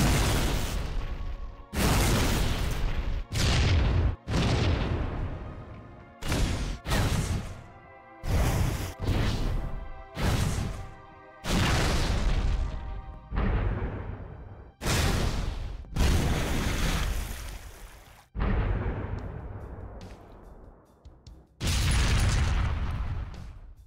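A long run of loud in-game explosions and crashing impacts from Halo 3 on the Mombasa map with destroyable buildings and Scarabs, coming as a dozen or more separate bursts, some short and sharp, some with longer rumbling tails.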